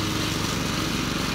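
A lawn mower runs steadily while mulching autumn leaves on a homestead lawn, a continuous rough engine drone heard close and alone for a brief stretch.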